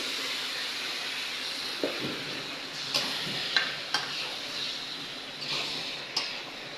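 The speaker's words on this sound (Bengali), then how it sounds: "মাংসটা ভালো করে কষিয়ে নেব" Meat being fried in a cooked spice masala, with a steady soft sizzle and several sharp spatula scrapes and clicks against the pan at irregular intervals. The sounds are close and moderately quiet, with no talking.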